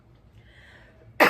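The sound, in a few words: coughing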